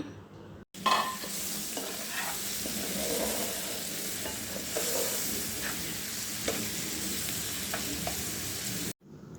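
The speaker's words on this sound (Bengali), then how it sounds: "মশলাটা কষিয়ে আসার পর টুকরো করা মাছটাও সাথে দিয়ে দিলাম" Pieces of baim (eel) fish sizzle steadily in a pan of cooked-down spice paste, with scattered scrapes and taps from stirring over a continuous frying hiss that runs the whole stretch.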